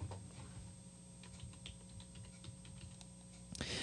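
Quiet, close clicking of a computer keyboard as msconfig is typed, a short irregular burst of light key taps over faint room hum, ending in a slightly louder keystroke.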